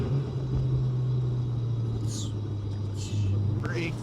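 A Nissan 240SX S13 with a swapped 1JZ engine drives along, giving a steady, loud low drone from inside the car, with brief higher squeaks and a few faint voice sounds near the end.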